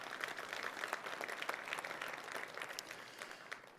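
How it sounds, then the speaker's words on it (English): A conference audience at an almond industry event applauds medal sponsors, dense steady clapping with scattered sharp claps, fairly faint and heard alone. "a round of applause"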